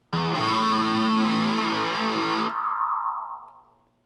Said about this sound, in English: the Spider has good distortion sounds. It has lots of effects that you can experiment with